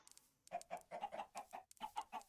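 Chickens in Minecraft cluck in a quick, rhythmic burst of short, close, clear calls, nearly continuous after a brief quiet start with one short pause.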